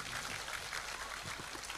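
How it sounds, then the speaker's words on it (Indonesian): An audience claps in a large Indonesian religious gathering, a dense, steady wash of applause at moderate level lasting throughout with no clear gaps. "Tepuk tangan untuk Mak Arif"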